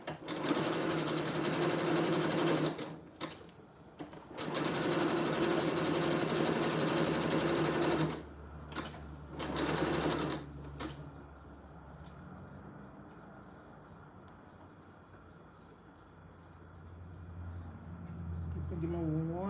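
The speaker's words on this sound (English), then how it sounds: "I'm gonna put some zigzag stitch on it." A sewing machine stitches a zigzag seam on doll clothes in loud bursts of steady whirring separated by pauses, then falls quiet while a low hum continues.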